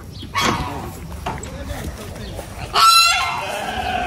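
A goose, called a king duck, honking loudly at a farm in two close bursts, the second longer and harsher, with people talking nearby.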